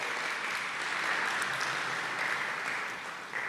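Congregation applause fills a church service, continuous even clapping from many hands at moderate distance, unbroken and without speech.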